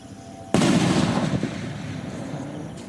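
A Kwiton Overload firecracker goes off with a single sharp, loud blast after a quiet pause, then a rumbling crackle and echo that slowly fade.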